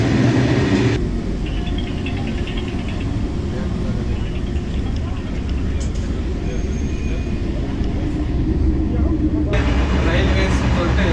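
Constant rumbling clatter of a moving train carriage in southern Egypt, loud and close throughout, with faint talking mixed into the noise.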